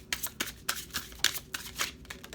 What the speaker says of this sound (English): I want to get one more shuffle